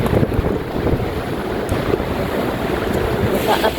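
Heavy typhoon rain and gusting wind buffet the microphone outdoors, a continuous roaring wash with low rumbling gusts and hissing downpour throughout.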